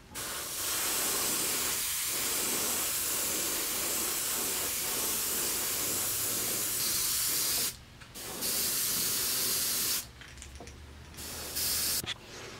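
Black spray paint hisses from a can onto the sides of a fishing lure, close and steady in long continuous bursts with a few short pauses between passes, with no talking.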